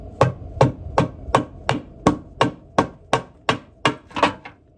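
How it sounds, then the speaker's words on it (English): Hammer striking a stuck gearbox part, about eleven sharp metallic blows in a steady rhythm, close and loud, the last few coming slightly faster with no talk. "Or we can use the hammer"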